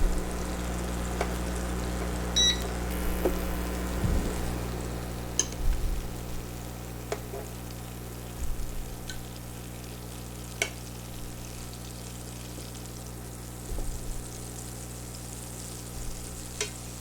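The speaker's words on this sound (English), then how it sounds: "I'm going to put about 3 tablespoons of butter into the pan" Butter melts and sizzles in a frying pan with a steady, moderate crackle, punctuated by a few soft clinks and stirring sounds, with no one talking.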